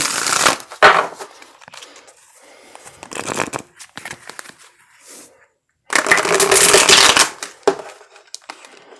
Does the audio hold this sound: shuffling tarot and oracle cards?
yes